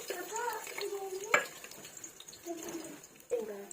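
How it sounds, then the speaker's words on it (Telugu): Garlic fries in a little oil in a pan for egg fried rice, giving a soft sizzle with stirring and a sharp metallic clink. Someone talks over it. "ఇప్పుడైతే వెల్లుల్లి వేసుకున్నాం."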